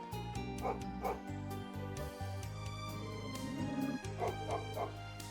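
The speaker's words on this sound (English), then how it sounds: "Poor thing's barking like crazy." A dog barks and yips repeatedly in the video game Trails of Cold Steel III over a steady, layered musical background with a synthetic sound; the barks come in short clusters.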